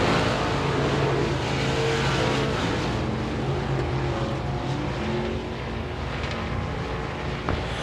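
Modified race cars roar around the oval at Devils Bowl Speedway, a loud continuous engine drone with layered cars passing close and shifting pitch as the pack runs through the turns.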